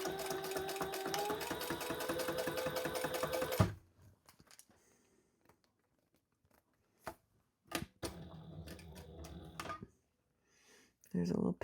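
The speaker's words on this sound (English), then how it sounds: "now we are going to stitch, top stitch." Sewing machine top stitching across the top of a Gemella wallet, a dense steady run of rapid mechanical stitching for several seconds, then quiet with short bursts of stitching and handling noises.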